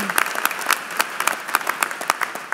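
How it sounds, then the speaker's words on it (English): Audience applause at a 2018 Temple University commencement ceremony, a burst of many hands clapping with distinct sharp claps standing out, steady and fairly loud throughout, no speech over it. "you can clap that"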